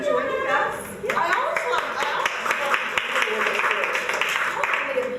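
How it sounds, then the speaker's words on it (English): A voice speaks briefly, then an audience at a travel presentation breaks into sustained applause, with many overlapping sharp claps at an even loudness for several seconds. "always love the applause"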